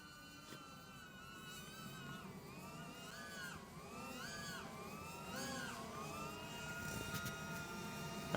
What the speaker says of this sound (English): But that Neo is just whining away, which is a bit of a shame.